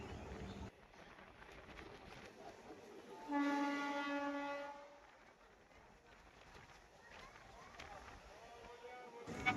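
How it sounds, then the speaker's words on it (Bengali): A train speeding up as it runs into Chandpara station on a Bengal line, heard from aboard: steady rolling rumble and rattle, with a long loud horn blast sounding partway through before the rumble settles again. "ট্রেনের গতিবেগ বাড়িয়ে নেক্সট স্টেশনে ঢুকে গেল চাঁদপাড়া"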